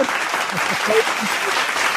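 Clapping that swells into a steady patter for a couple of seconds, with voices speaking over it.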